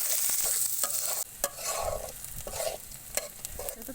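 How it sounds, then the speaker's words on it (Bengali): Chopped onions and green chillies hit hot oil already fragrant with cardamom, cinnamon, cloves and bay leaf, sizzling loudly up close. Scraping stirs break in at intervals, and no one speaks. "এখন আমি এখানে কুচি করে রাখা পেঁয়াজ আর কাঁচামরিচ দিয়ে দিব।"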